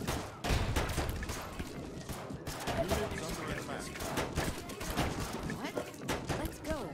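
Rapid gunfire crackles in the zombie survival strategy game They Are Billions, dense bursts of shots repeating throughout amid a busy game soundscape, with someone talking over it.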